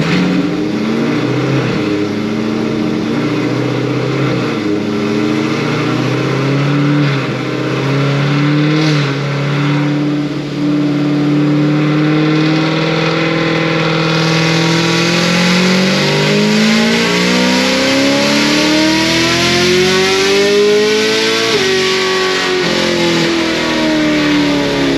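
A Stage 5 procharged LT1 Camaro engine pulls hard through the revs on a full pull, a loud, close, sustained roar climbing steadily in pitch with a rising supercharger whine, then easing off near the end.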